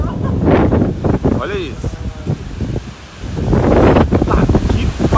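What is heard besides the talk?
strong wind blowing at a house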